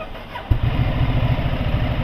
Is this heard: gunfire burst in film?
no